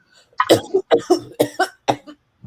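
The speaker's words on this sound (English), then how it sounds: "Are you trying to throw us off by coughing?" A burst of several harsh coughs in quick succession, close and fairly loud, with short gaps between them.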